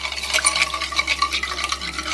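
Salt, sugar and yeast being mixed for cinnamon roll dough, a close, brisk scratchy whisking with quick repeated strokes, loud and alone.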